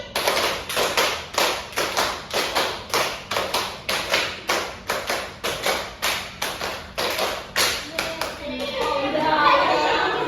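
Hands clap in a steady, regular rhythm, about twenty sharp claps spread evenly over several seconds during a counting exercise in a classroom biography lesson, close and fairly loud, then give way to a noisy wash of room chatter.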